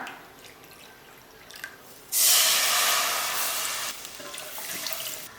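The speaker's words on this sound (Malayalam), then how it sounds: "പാൻ ചൂടാവുമ്പോൾ ഇതിലേക്ക് ഒന്നേകാൽ കപ്പ് വെള്ളം ചേർക്കാം" About a cup and a quarter of water hits a heated pan, just emptied of ghee-roasted rava. After quiet drips, a sudden loud steamy hiss erupts and then slowly fades into a softer sizzle.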